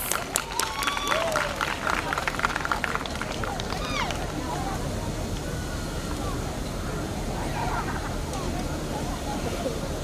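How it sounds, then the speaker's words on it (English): An audience at an International Day of Yoga gathering in Durban, KwaZulu Natal, applauds steadily, a dense, even wash of clapping lasting throughout, with scattered crowd voices and whistles in the first seconds. "a warm round of applause"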